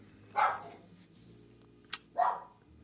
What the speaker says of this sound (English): Sorry, my dog's going bananas.